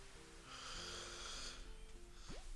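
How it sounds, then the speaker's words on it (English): A long, drawn-out yawn with breathy, snore-like rasping, soft and close, followed by a brief rising vocal squeak at the end. "Gosh, these yawns are killing me."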